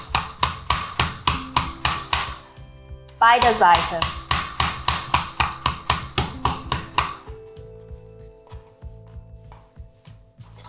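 A textured meat tenderizer mallet pounds pork in a kitchen, landing as steady rhythmic thuds, roughly two a second, loud and close, with a brief burst of denser blows and some talk under the pounding.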